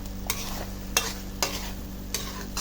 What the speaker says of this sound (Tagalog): Keep it stirring ha, para hindi magkaroon ng burning smell sa bottoms